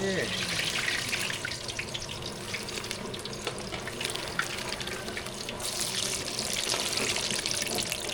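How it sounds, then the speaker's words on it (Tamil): Water boils hard in a large pot as semolina is poured in for kesari, cooked in bulk at a temple meal, giving a continuous close bubbling hiss with faint voices in the background. "கேசரிக்கு வந்து தண்ணி நல்லா கொதிச்சிருச்சு ரவாவை கொட்டி"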